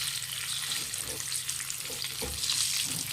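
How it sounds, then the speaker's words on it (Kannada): Boiled eggs frying in a pan for egg curry, a steady close sizzle with light stirring scrapes, heard alone without talk. "ಈಗ ಇದರಲ್ಲಿ ಒಂದು ಸ್ವಲ್ಪ ಇದನ್ನು ಫ್ರೈ ಮಾಡ್ಕೊತೀನಿ ನಾನು."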